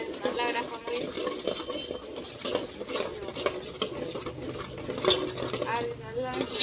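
Egg dish stirred in a pan on the stove, a steady scraping and clinking of utensil against the pan with a light sizzle underneath, continuous for several seconds.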